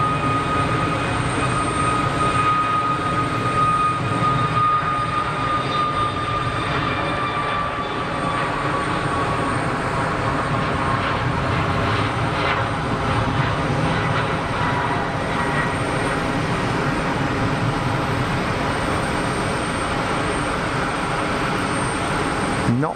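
A Dassault Falcon trijet takes off at Geneva Airport, giving a loud, steady jet roar with a whining engine tone that slowly falls in pitch as the aircraft climbs away over the full stretch.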